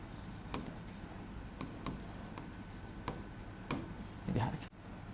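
Chalk or marker writing on a board during a Hindi-language lecture on census statistics: short scratchy strokes in irregular bursts, some taps and rubs, faint and close with the room quiet between marks.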